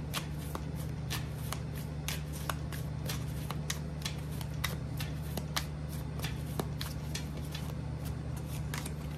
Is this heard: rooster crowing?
no